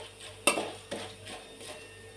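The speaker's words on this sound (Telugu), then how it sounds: "వేసుకున్న తర్వాత కొంచెం వీటిని ఫ్రై చేసుకోవాలి" Moong dal frying in a pan, a couple of sharp metal spoon clinks against the pan over a faint steady sizzle, quiet and close, no speech.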